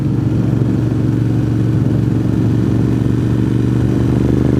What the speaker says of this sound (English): I'm on 2009 Ducati Monster 1100.